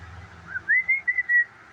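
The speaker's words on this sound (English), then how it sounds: "That was a perfect whistling song." A pet bird whistles a short song, a few clear rising and falling whistled notes in quick, lilting phrases, close and distinct over a quiet room.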